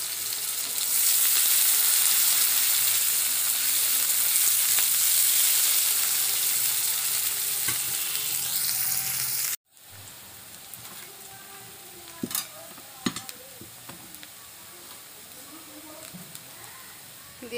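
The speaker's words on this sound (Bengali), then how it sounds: "পেঁয়াজগুলো খুব ভালোভাবে ভেজে নেব।" Onions fry in a pan with a loud, even sizzle for about nine seconds, then after an abrupt cut a quieter hiss continues with a few scattered clicks.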